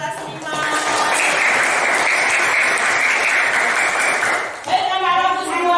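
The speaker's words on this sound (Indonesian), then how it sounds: "tepuk tangan buat kelas 5" A class of fifth-grade children applauds together in a steady, loud burst of clapping lasting several seconds, with voices mixed in and speech rising at the end.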